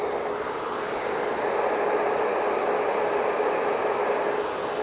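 A hair blow dryer fitted with a diffuser attachment dries curly hair, giving a steady, close, continuous whooshing roar with no talking over it.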